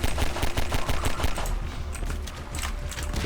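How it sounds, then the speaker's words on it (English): Pistol gunfire in a video game comes as a dense, steady stream of rapid shots over a loud, busy game soundscape, continuous and close throughout. "Let's use the pistol for a bit."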